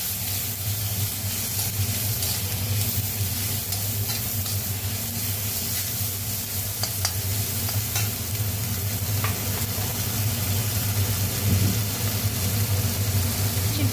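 Turmeric-coated chicken pieces being stirred and mixed in a hot pan for garlic pepper chicken, a loud continuous sizzle with spatula scraping and shuffling throughout.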